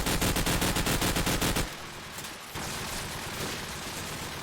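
AK-47 fire in a Counter-Strike match: rapid, evenly spaced bursts of loud shots ring out up front, then break off and give way to softer scattered game noise.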